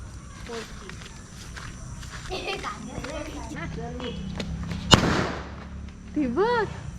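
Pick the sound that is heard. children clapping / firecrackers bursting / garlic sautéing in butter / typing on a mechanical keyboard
firecrackers bursting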